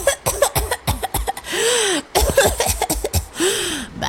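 An old woman coughs from stove smoke, a rapid series of harsh, close coughs and throat-clearing bursts with wheezy rasps between them.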